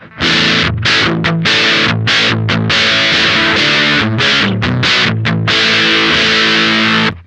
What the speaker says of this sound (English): We're still getting a pretty distorted sound.